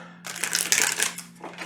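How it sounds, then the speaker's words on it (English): Tarot cards being shuffled by hand in a quiet room, a dense riffling, crisp papery burst starting after a short silence and running nearly continuously with small pauses, close and moderately loud. "Okay, so I have to shuffle again, guys."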